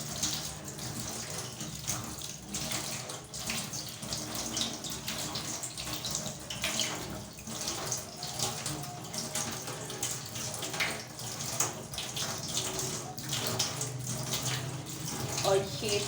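Tap water runs steadily into a sink while wheat flour dough is washed by hand, a continuous close splashing rush with small shifts as hands move through the water.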